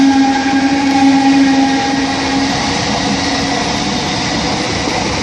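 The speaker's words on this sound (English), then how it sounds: "Oh, it's a mail train!" A mail train, apparently Class 325 units, passes northbound through Wigan North Western station with a loud, steady rumbling roar and a sustained whine that fades slightly as it goes by.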